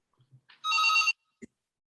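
A telephone rings once in a short, bright electronic burst during an online plenary session, with a few faint clicks around it and otherwise quiet.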